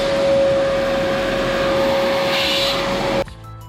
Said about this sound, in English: Vacuum out, clean these off.